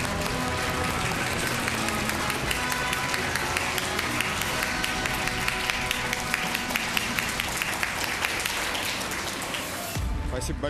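A TV studio audience applauds steadily, a dense patter of many hands clapping that continues evenly for about ten seconds before cutting off abruptly.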